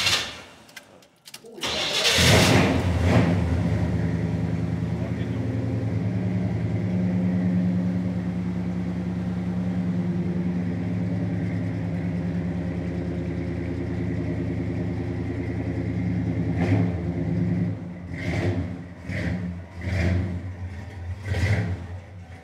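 A cold petrol car engine sputters into life on choke, then runs unevenly with a rough mid-pitched note before several sharp revs near the end, loud and close, with people talking briefly over it.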